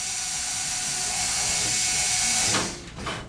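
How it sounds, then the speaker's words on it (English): An electric drill bores through wood for an RC plane aileron, giving a steady, close, high-pitched whine for about two and a half seconds before it winds down and stops. "I'm going to go ahead and drill that all the way through."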